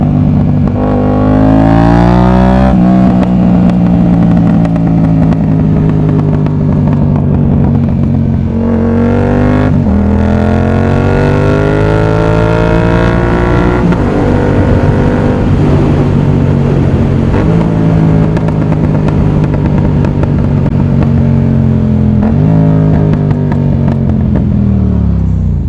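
A Yamaha MT-07 motorcycle roars loudly and continuously from the rider's position, its engine and exhaust revving up and down through repeated accelerations and gear changes.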